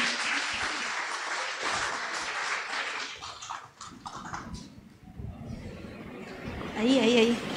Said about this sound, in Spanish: Recibámoslos con un fuerte aplauso, por favor.